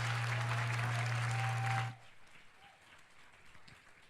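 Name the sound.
audience applause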